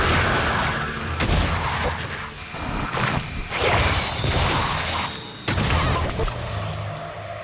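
Shotgun blasts in the video game Prey, a handful of loud booming shots with sharp onsets amid clattering mechanical and whooshing game effects, close and dense throughout.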